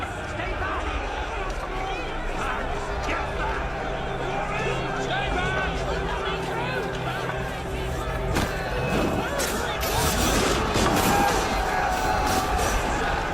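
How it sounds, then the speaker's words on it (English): In the video game Assassin's Creed Unity, a massive crowd storms the palace in Paris: a dense roar of many voices and running feet, with crashes and a louder surge late on. "Assassinating the guards inspired the crowd to storm the palace by force."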